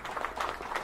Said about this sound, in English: applause for all the ologies